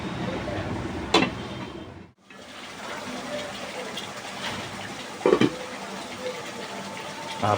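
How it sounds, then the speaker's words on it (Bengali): Water is poured into a pot of chicken curry with pointed gourd, a continuous close rush of liquid that briefly cuts out, with a couple of sharp knocks, and no talking. "কষানো শেষ করে এখন পানি দিব।"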